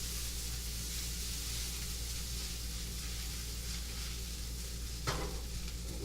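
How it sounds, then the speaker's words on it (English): Onions fry and sizzle in a pan while starting to burn, a steady, quiet hiss running unbroken with one brief scrape near the end. "I need to kind of do something about those onions burning"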